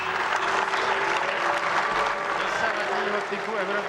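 A chamber of the European Parliament breaks into sustained, dense applause from many hands, with voices talking over the clapping throughout.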